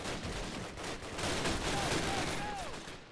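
Gunfire from a World War II shooter game, Call of Duty: United Offensive, rattles in a dense, continuous wash of overlapping shots, like a fusillade or machine-gun bursts, with voices faintly present in the battle din.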